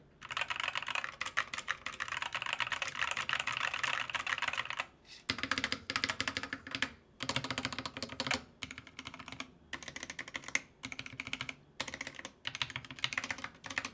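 Fast, continuous clacking of keys typed on a Ractous RTK61 mechanical keyboard with pudding keycaps, close up, with brief pauses between bursts and no talking.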